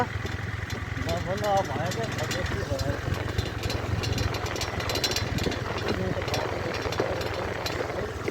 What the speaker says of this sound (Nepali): यहाँ चाहिँ स्कुटर बुढाइरहेको छ नि, सिकिरहेछ